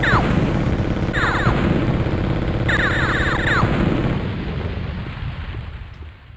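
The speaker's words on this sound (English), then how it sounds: "Look at the state of these explosion effects." Explosion effects in the PS1 Grand Theft Auto game, loud crunchy low-fidelity booms and crackling bursts repeating several times over a dense rumbling noise bed that fades toward the end.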